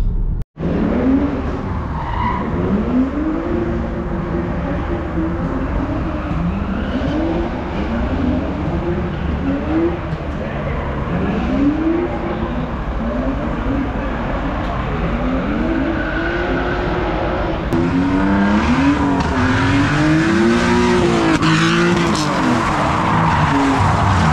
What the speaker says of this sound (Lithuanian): Vyksta drifto treniruotė